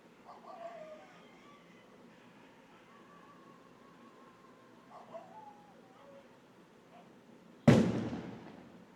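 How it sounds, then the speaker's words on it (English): A single sharp firecracker bang goes off outdoors near the end, loud and sudden after a quiet stretch with faint birdsong and background sounds. "Who the fuck is lighting firecrackers"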